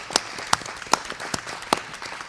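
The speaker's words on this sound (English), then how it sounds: "Can we get a round of applause for both of our candidates that are here?" Sparse, scattered clapping from a small audience at a county commissioner candidate forum, a handful of distinct claps rather than a full ovation, fairly close and moderately loud with no talking.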